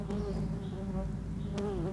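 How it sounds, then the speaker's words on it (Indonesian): Stingless bees from a combined Biroi and Leviceps colony buzz close and busy, overlapping tones wavering as individual insects fly past near the mic. "ini saya tutup dulu karena serangannya lebahnya luar biasa sekali nih"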